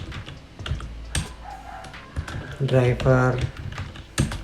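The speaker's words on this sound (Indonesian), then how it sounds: "kita bisa ketik di pencariannya ya" Typing on a computer keyboard into a Windows search box, quick light key clicks in bursts, heard close under a person speaking.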